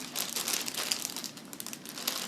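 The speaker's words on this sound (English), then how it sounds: "put it in a plastic bag" Steady crinkling of a plastic bag holding tie-dyed fabric, close and continuous, with soft rustles and crackles throughout and no voices.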